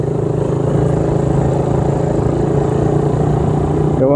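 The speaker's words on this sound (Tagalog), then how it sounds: "Pangit ang tunog tuloy ng ano natin, tambutso." A motorcycle engine with a leaking exhaust pipe elbow idles steadily and close by, a continuous rough, buzzy drone that holds an even level throughout with no talking over it.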